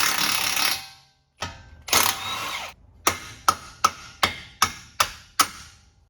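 Tool work loosens the top mount bolts of a car's coilover suspension, heard as a few sustained bursts and then a steady series of sharp, evenly spaced hits up close, with no talk.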